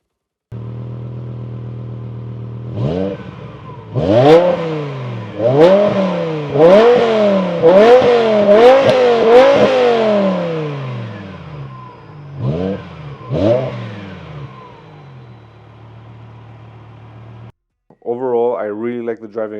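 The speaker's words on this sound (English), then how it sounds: "The V10 sound is like anything else, a blend of high-revving screams and deep-throaty growls." A high-revving S85 V10 engine in a BMW M6 E63 coupe screams through repeated sharp rev blips, rising and falling quickly, loud and close, then settles to idle before a final burst.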